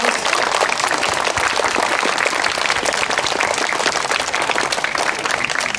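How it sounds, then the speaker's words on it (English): Steady applause from a crowd for fifth graders at a 9/11 school ceremony, dense continuous clapping, loud and sustained, with almost no talking over it. "I want to give a round of applause to our fifth graders for reading those"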